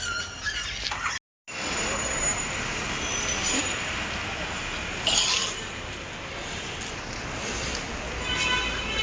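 A train sits in Hosapete railway station with rumbling and a brief metallic wheel squeal, broad noisy ambience, a short dropout near the start.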